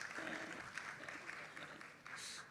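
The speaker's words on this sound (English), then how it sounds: "Huge round of applause," Audience applause and cheering for a film's writer at a panel chat, a broad sustained wash of clapping with a few voices mixed in.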